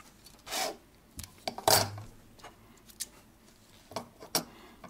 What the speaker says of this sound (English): Spin the pin vise.